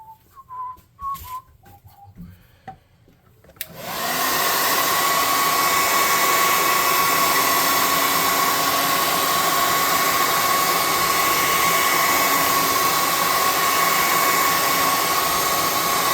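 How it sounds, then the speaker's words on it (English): An air gun blasts a steady, loud hissing rush of air over a freshly painted Forest Golem tabletop miniature, starting after a few seconds of quiet clicks and holding constant to the end. "Now we're going to hit him with the air gun."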